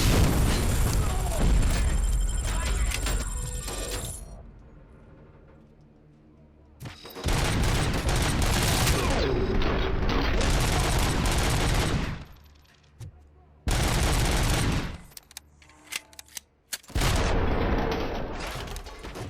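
Gunfire in RoboCop: Rogue City, loud dense automatic bursts and booming blasts in several separate stretches broken by short quiet gaps, with mechanical clanks between.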